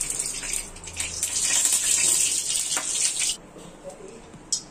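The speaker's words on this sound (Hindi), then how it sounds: "कढ़ाई गर्म हो चुकी है और हम इसमें मस्टर्ड ऑयल डालते हैं।" Mustard oil poured into a hot kadhai, a loud continuous gushing, hissing rush for about three seconds before cutting off, followed by quieter sizzle and a brief final clatter.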